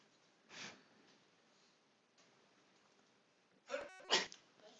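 A sharp sneeze bursts out near the end after a quieter sniff earlier, close by in an otherwise hushed room.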